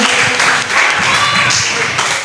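A university audience at a student presidential candidate debate gives loud, continuous applause for the candidates throughout the short stretch.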